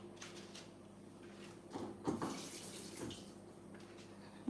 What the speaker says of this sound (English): I'm going to add 1 more cup of water, because the milk is very rich.